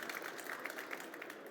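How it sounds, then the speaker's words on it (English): A conference audience at a hydrogen safety talk gives a round of applause, quiet, even clapping from a modest crowd heard at a distance, brief and steady. "Please give Thomas a round of applause."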